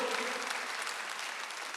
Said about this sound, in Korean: 박수 한번 넣으세요.